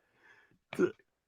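A single close sneeze: a brief soft intake of breath, then a sharp, explosive burst.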